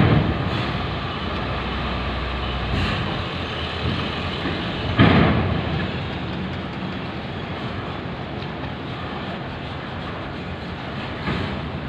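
Heavy vehicle traffic rumbles steadily at Merak port as a green truck rolls onto a ferry, with a continuous broadband engine roar and a brief louder clunk partway through; no talk.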